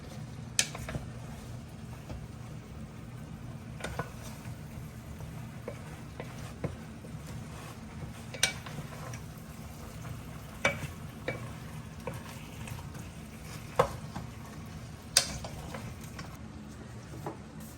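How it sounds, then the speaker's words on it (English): Zucchini and onions stirred in a sizzling pan for calabacitas con queso: a steady quiet frying hiss under repeated spoon scrapes and taps at irregular intervals, close by. "Mix it up with the onions."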